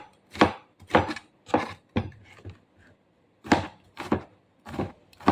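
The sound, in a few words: chopping onion and garlic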